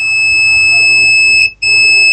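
A loud, steady high-pitched multimeter continuity beep holds, cuts out briefly for a moment, then resumes, piercing and close, while testing a coil to ground on an HP ProBook 650 G2 motherboard.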